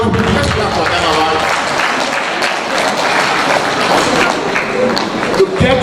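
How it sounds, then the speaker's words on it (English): Conference audience at a pharmaceutical colloquium applauding, steady loud clapping throughout with crowd noise and voices mixed in. "Let's clap for Adamawa."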